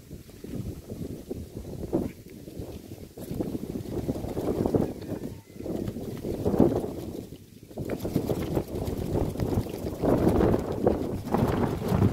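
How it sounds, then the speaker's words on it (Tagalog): Strong wind buffets the microphone in rumbling gusts that rise and fall in an open farm field, loud and continuous with no voices. "Lakas ng hangin, ah."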